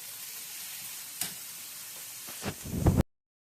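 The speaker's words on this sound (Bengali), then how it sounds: "ওকে দেখো পেঁয়াজটা বিরান হয়ে গেছে" Onions frying in oil in a pan, a close steady sizzle with a couple of sharp spatters and a brief burst of stirring before it cuts off.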